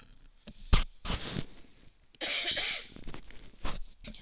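Several harsh coughs from a person with a cold, close and loud, spaced irregularly with throat clearing and short breaths between bursts.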